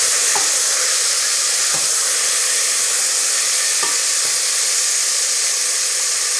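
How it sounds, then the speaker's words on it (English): Beef stew meat sizzles steadily as it browns in a hot pan, a loud continuous frying hiss with a few soft stirring knocks from turning the pieces over. "Keep stirring the meat over, just to make sure it's all nicely browned off"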